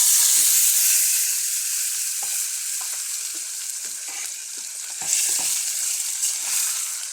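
Spices with asafoetida temper in hot oil for an amaranth greens dish, giving a loud, continuous crackling sizzle with scattered light stirring scrapes and no talk.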